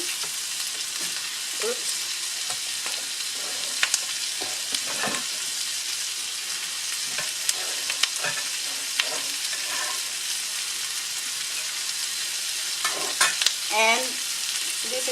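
Chopped scallions stir-frying in a hot wok or pan for beef with broccoli, with a steady sizzle and scraping stir strokes throughout, and a brief word spoken near the end.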